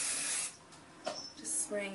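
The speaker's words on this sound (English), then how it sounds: "just spraying that little part of it" A can of hair spray sprays onto voluminous hair set with velcro rollers, giving several soft hissing bursts close by, with pauses between them.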